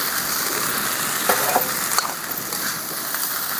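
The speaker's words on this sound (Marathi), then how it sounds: "ते आपण सगळं शाबू आता कढईमध्ये घालूया" Soaked sabudana and potato frying in a kadhai as they are stirred, a steady close sizzle with a few louder scraping bursts from the stirring, no talk over it.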